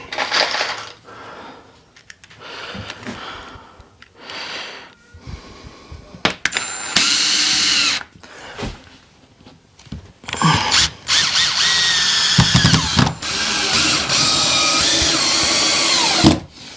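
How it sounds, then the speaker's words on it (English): A power drill whirs in repeated bursts, driving screws into shed wall sheets, with clattering and handling noises between runs and longer sustained drilling toward the end. "let's get my drill"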